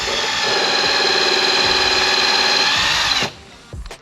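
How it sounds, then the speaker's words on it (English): A power drill whirs at a steady high pitch for about three seconds, then cuts off abruptly, followed by a brief clatter. "Spinning the drill chuck."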